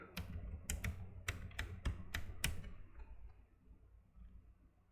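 Rapid bursts of keystrokes on a computer keyboard, close and clear, about a dozen taps in the first two and a half seconds, then quiet room hiss.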